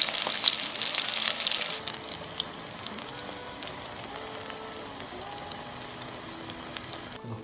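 Burger ingredients frying on a hot pan until crisp, a steady broadband sizzle with scattered crackles and pops, louder at first and then settling into a quieter continuous fizz.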